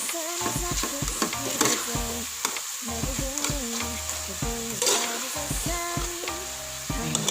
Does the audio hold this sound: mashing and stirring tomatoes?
yes